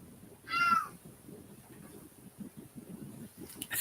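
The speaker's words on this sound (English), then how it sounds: "I have a cat meowing back there." A single cat meows once, fairly close and clear, early on, against a quiet dark roadside with low murmuring talk continuing underneath.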